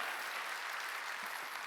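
A church congregation claps during a Wednesday worship service, a steady even wash of many hands applauding together, fairly distant and sustained throughout.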